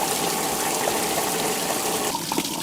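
Water gushes steadily through a sand pool filter during backwash, a continuous broadband rush with a few small splashes and gurgles near the end, close and alone with no talk.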